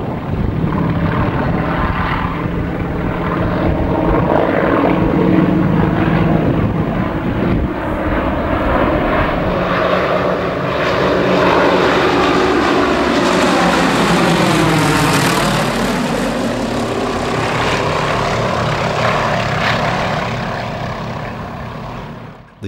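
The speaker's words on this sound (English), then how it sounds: "John Parker regularly flies one of the solo spots in his aircraft" A Yak radial-engine warbird flies past in New Zealand, its loud propeller drone building and then sweeping down in pitch as it passes overhead before fading, heard alone without talk.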